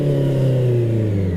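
QJ Motor QJ 600 RR motorcycle, a 2024 facelift model, revving up in first gear, a loud steady engine drone with rising pitch heard close and alone.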